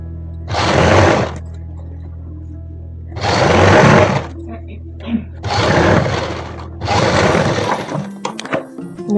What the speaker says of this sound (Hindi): हम एक पैर की सिलाई लेते हुए ऐसे सिलाई लगाते हुए चलेंगे इस तरीके से।